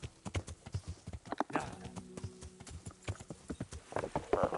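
Horse hooves clip-clop in a quick, steady rhythm in the video game Kingdom Come: Deliverance, moderately quiet, with a faint tonal hum partway through and no talking.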